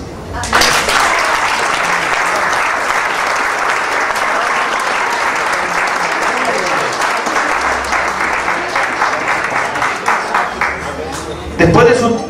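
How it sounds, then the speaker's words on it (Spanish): Sustained audience applause at a golden wedding anniversary ceremony, a dense steady clapping from a sizeable crowd lasting over ten seconds, with a few louder individual claps near the end. "Un aplauso."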